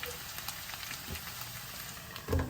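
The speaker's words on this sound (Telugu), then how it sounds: "మనం కారం రెడీ చేసుకునే వరకు చక్కగా వేగిపోద్దండి" Potato pieces fry in a covered pan, a steady soft sizzle running throughout and swelling briefly louder near the end.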